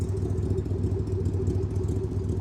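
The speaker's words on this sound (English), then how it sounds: "Gotta love the sound of a big block 427 engine." A 1967 Chevy Corvette with a tri-power big block 427 V8, four-speed manual and side pipes idles with a steady, deep, lumpy exhaust rumble, close and continuous with no talk.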